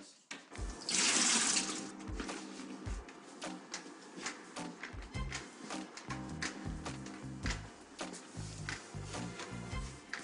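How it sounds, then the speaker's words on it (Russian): Water splashes and runs while a floor is being washed indoors, a brief loud gush near the start followed by intermittent sloshing and scrubbing sounds at close range. "Не прекращай мыть пол."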